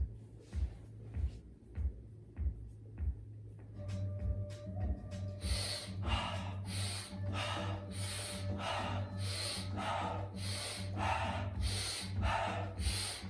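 Strong rhythmic breathing during an alkaline breathing exercise for boosting HGH, a few sharp breaths at first, then a fast, steady run of forceful inhales and exhales, close and loud.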